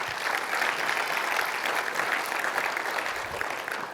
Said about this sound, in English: Y'all give Mary O'Connor a big round of applause